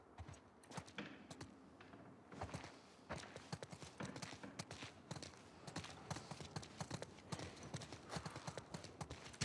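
Horse hooves clip-clop steadily in The Last of Us Part 2, a dense run of sharp, close hoof strikes on the ground that grows busier and louder after the first couple of seconds, with no one talking over it.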